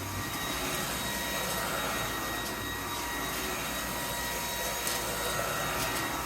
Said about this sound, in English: we measure the max decibels with our max suction mode enabled vacuuming carpet